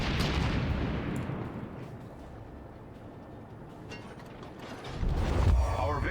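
Naval gunfire from a destroyer, the Gremyashchy, in World of Warships: a sharp broadband salvo opens, followed by a long decaying rumble and mechanical creaking, then a second heavy boom near the end.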